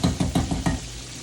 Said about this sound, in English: Okra is starting to bubble.